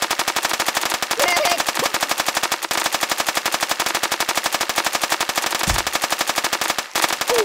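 Rapid, continuous machine gun fire from the Kick The Buddy video game rattles loudly and evenly for the whole stretch, with a couple of brief breaks and no talking over it.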